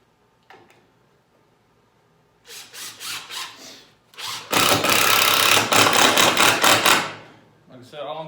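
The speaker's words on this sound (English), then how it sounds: "So we're going to screw all this together real quick." Power drill driving screws to join boards of an L-shaped wooden desk, short bursts of whirring followed by a longer loud grinding run as a screw seats, close and alone with small knocks around it.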